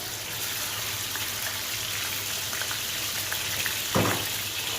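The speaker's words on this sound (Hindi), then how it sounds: "अब मैं इस कलेजी को हल्का सा ब्राउन करूंगी" Goat liver frying on a hot tawa, a steady soft sizzle and crackle that holds even throughout, with one brief louder spatter near the end.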